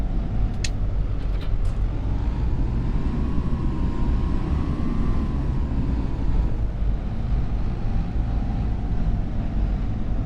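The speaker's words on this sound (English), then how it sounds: "There isn't a tractor in this game that sounds like that" A steady, droning tractor engine rumble in Farming Simulator 25, with a slowly wavering tone, constant and fairly loud throughout, like a motor idling and revving gently.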